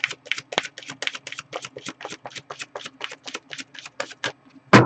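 A deck of tarot cards is shuffled by hand, a quick run of crisp, evenly spaced riffling snaps close up, ending with a louder thump.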